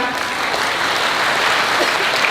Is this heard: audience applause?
yes